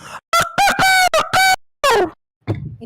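A person vocally imitates a rooster, giving a quick string of loud, close clucking calls followed by a drawn-out squawk, with a short rustle at the end.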